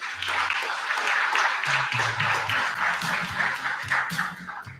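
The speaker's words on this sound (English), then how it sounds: "Let's give Dulce a round of applause." An audience applauds with a steady patter of clapping at a school signing day ceremony, with faint low voices underneath.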